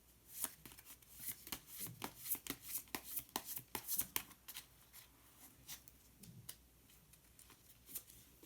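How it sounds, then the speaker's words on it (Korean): A deck of colour cards being shuffled and drawn, a quick series of close, crisp riffling flicks and soft slaps that slow and thin out toward the end. "그러면 색깔로 알아보는 컬러 카드 한 장 더 뽑아보도록 하겠습니다."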